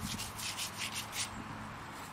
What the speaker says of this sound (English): So let me wipe that pipe,